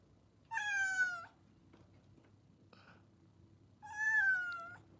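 A cat meows twice, each call drawn out for under a second with a gap between, loud and close over a low background hum in a studio setting.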